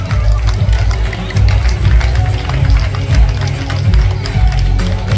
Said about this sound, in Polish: Wielkie brawa dla pani Ani.